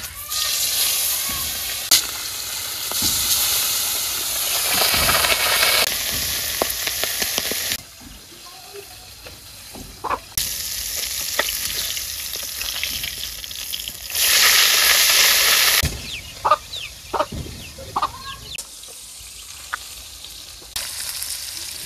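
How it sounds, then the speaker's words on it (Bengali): Poa fish frying in hot oil in a wok, a loud hissing sizzle that surges and fades in bursts, with utensil clinks and scrapes between the louder stretches. "যে মাছ ভাজা বহাই দিই এখন।"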